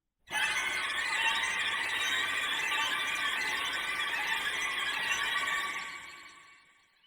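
Harsh, screeching high violins sawing loudly and continuously with lurching dynamics, dense and shrill, before fading out near the end.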